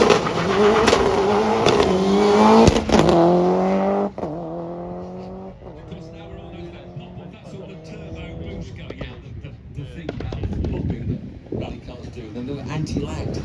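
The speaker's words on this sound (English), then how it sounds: "Group A rally car. It's in its period Toyota colours from 1992." A 1992 Toyota Group A rally car in period colours revs hard and accelerates down a hill at a classic car show, engine note rising through gears then fading, with a commentator talking over it throughout.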